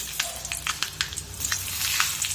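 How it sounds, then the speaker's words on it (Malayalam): Dried chillies drop into hot oil where mustard seeds are already popping, giving a soft frying hiss broken by sharp little crackles and pops. It is fairly quiet and no one speaks. "കടുക് കൊട്ടിയിട്ടുണ്ട് അതിലേക്ക് മുളക് ചേർത്ത് കൊടുക്കാം"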